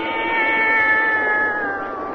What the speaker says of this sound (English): Satan, her wise black cat.